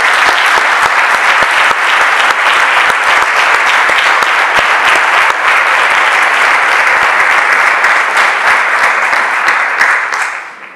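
Loud, sustained applause from a large audience at the Raíces Maspalomas 2021 awards ceremony, dense clapping filling the hall for about ten seconds before tapering off at the end.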